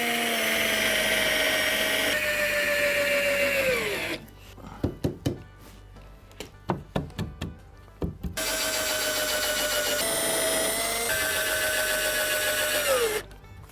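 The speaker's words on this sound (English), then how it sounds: "Drill a pilot hole in." A power drill bores a pilot hole into timber while a child's wooden mud kitchen is assembled, running loud and steady for about four seconds, pausing amid a few sharp knocks, then whining again for several seconds.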